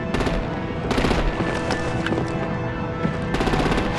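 Rapid bursts of automatic gunfire aimed at vehicles in a Batman: The Enemy Within action scene, loud and close, coming in several volleys with short gaps between them.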